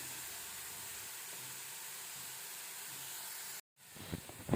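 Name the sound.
ground squash frying in a pan with ginger and garlic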